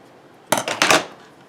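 Two quick scissor snips close by as the base of material on a shamrock wreath is trimmed, with quiet room tone before and after.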